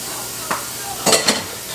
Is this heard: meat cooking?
yes